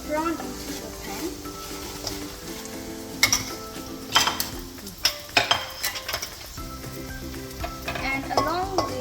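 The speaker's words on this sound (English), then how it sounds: "Now let's add our prawn into the pan." Prawns fry and are stirred in a pan with sugar, milk powder and Nestum, a steady sizzle under clinks and scrapes of a utensil against the pan, with sharp metallic knocks.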